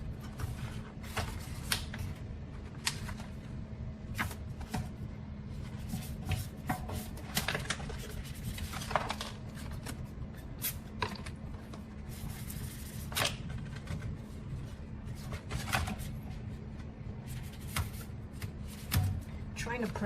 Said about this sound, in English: now you slowly peel and you use the squeegee